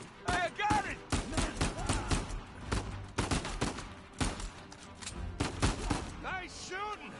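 Gunfire in the Uncharted 4: A Thief's End video game, a rapid run of sharp shots spread across the scene with overlapping voices talking throughout, the bursts loud and close amid game effects.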